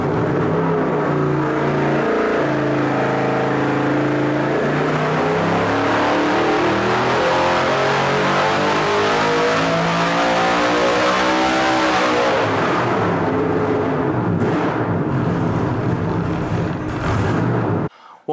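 An engine pulls hard on a dynamometer test run at an engine performance expo, a loud sustained roar climbing steadily in pitch for over ten seconds before cutting off and winding down.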